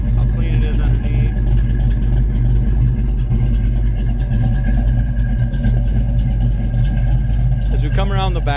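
A 1985 Ford Mustang GT with a 5-speed and Flowmaster dual exhaust idles with a deep, steady rumble throughout, while someone talks over it.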